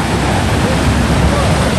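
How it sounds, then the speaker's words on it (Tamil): Loud, continuous rushing floodwater in a canal in Chankanai, Jaffna, roars in a dense wash of noise, close by, with no clear voices. "வெள்ளப்பெருக்கு ஏற்படும் மாதிரி போகுது"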